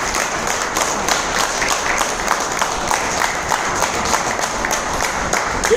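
Dense, steady applause from an audience at an event welcoming a guest speaker, many hands clapping at once at a fairly loud, even level for the whole stretch with no voices over it.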